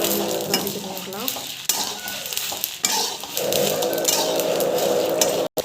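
Spices with coriander powder sauté in a pan, heard as steady, close scraping and stirring with utensil clatter over a constant sizzle, cut by a brief silence near the end.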